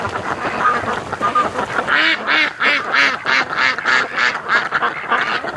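Ducks quack in a frantic, rapid burst of loud, repeated honking calls at a lake, starting after a couple of seconds of lighter background activity and continuing in a near, rhythmic series to the end.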